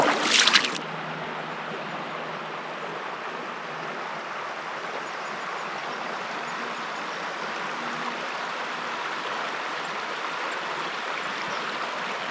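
Boulder Creek running full through Boulder Canyon in the Superstition Wilderness, a steady broad rush of flowing water heard close and continuous, after a short louder splash at the start.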